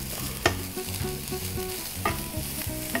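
Grated coconut tossed into a hot frying pan and stirred, with a steady sizzle, a few sharp scraping clinks of the spoon against the pan, and quiet background music underneath.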